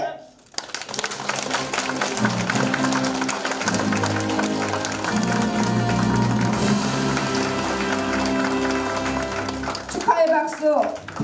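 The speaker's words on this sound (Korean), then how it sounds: "축하의 박수, 필승의 박수" A crowd applauds at a ribbon-cutting ceremony opening a Democratic Party candidate's election office in Jindo, sustained loud clapping lasting about ten seconds, with a voice speaking briefly at the end.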